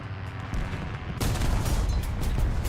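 A tank cannon fires in a tank video game: one sudden, loud booming blast over steady rumbling game ambience, with no talk.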